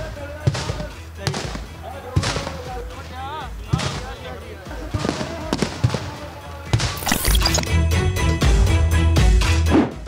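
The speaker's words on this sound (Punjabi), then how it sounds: "ਤੁਸੀਂ ਧਮਾਕੇ ਦੀ ਆਵਾਜ਼ ਸੁਣ ਪਾ ਰਹੇ ਹੋਵੋਗੇ।" Tear gas shells burst at the Shambhu barrier during a farmers' protest: a series of sharp, booming blasts at irregular intervals, with crowd noise and a person talking over them.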